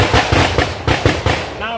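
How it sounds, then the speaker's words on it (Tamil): Firecrackers burst close by in a rapid string of sharp cracks, roughly seven loud pops in under two seconds with an irregular rhythm. "வெடிக்கிறாங்க பாரு வெடி"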